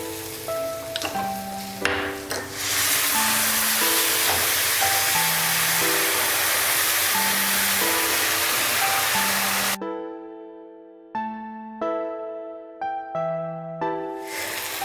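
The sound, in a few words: tomatoes frying with water in a pan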